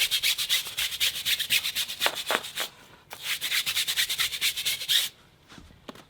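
A brush scrubs foam on a car tyre close up in quick rhythmic back-and-forth strokes, with two short pauses between bursts of scrubbing.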